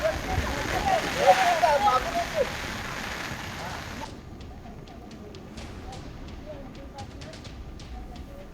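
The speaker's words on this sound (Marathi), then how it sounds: "नंदुरबारमध्ये गेल्या काही दिवसांपासून मुसळधार पाऊस सुरू आहे" Heavy monsoon rain pours in Nandurbar, a dense steady hiss that is louder for the first few seconds and then settles into a softer patter with scattered drips.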